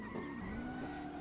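A car in the racing video game Auto Club Revolution drives with a steady engine drone and tires squealing as it skids, a continuous mid-level sound with no talking.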